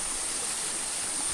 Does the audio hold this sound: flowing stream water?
yes